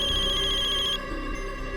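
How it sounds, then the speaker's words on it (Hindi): An incoming call sets off a telephone ringtone at night, a fast electronic trill that rings for about a second and then cuts off, leaving a quiet room. "कौन फोन कर सकता है?"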